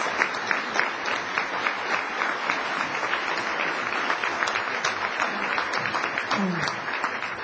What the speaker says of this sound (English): Let's have a round of applause for all of the department heads